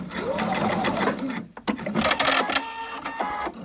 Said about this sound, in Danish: Så jeg syr lige 5 cm op af sidesømmen her.